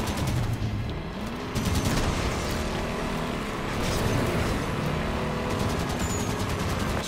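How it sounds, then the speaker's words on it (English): The mounted gun on a Warthog vehicle in Halo 5 fires in sustained rapid bursts, a dense continuous chatter layered over engine hum and battle noise, loud and unbroken for several seconds. "Supporting on the Warthog gun!"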